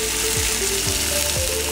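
A smoked tuna fillet sizzles steadily in a hot pan, a loud continuous frying hiss throughout with a few brief low scraping sounds mixed in.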